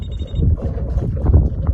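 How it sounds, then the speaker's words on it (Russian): Wind blowing hard at a Black Sea shore during fishing, a dense low buffeting rumble across the mic with no clear gaps and a faint high tone at the very start. "Ветер дует, даже не слышно, что будет."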